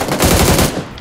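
Rapid automatic gunfire in the PUBG Lite video game, a loud, dense burst of shots in quick rhythm lasting about a second before trailing off.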